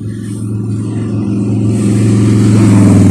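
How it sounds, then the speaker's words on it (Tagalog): A fast motorcycle passes by on a street, a loud, steady engine roar that grows slightly louder as it nears, with no talk over it. "Teka lang, may mabilis na motor."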